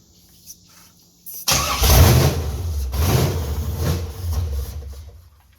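A car cranking and then starting after a DIY engine swap, running on an empty fuel line and leaking ATF, with a brief starter whir before the engine catches and keeps running loud and rough with revs rising and falling.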